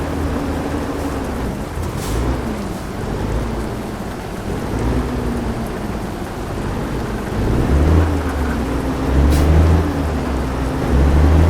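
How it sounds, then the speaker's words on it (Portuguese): Steady rain and deep rolling thunder fill a stormy drive in the American Truck Simulator video game, with a low truck engine hum underneath and heavier thunder rumbles building in the second half. "Sempre chuva."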